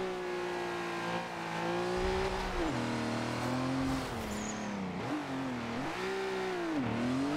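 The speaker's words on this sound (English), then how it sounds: "I forgot this thing had twin turbos." The twin-turbo VW Desert Dingo Racing Bug in Forza Horizon 2 revs hard, its engine note climbing, dipping between shifts and surging again, loud and close throughout with a brief tire squeal midway.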